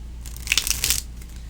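A Ghosts & Spirits tarot deck being shuffled gives a single quick papery riffle of cards lasting about half a second, close and fairly soft against a quiet background.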